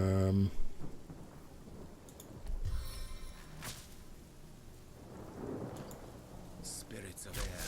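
A rain and thunder spell cast in the video game Divinity: Original Sin: soft hiss of falling rain with a few sharp rumbling thunder bursts, a spoken voice briefly at the start.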